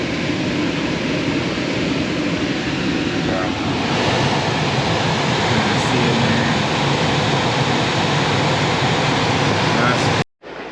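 A Ford Excursion idles with its air conditioning running after a coil cleaning, giving a loud, steady whoosh of blower air and engine hum that cuts out abruptly at the end.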